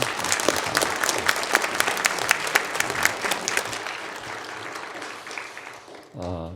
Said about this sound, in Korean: 우리 고맙습니다 하고 박수 한번 보내드립시다.